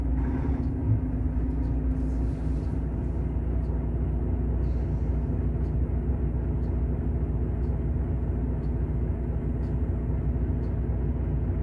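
Heavy truck idling and maneuvering in a packed truck yard, with a steady low diesel rumble, constant and moderately close, and faint speech mixed in.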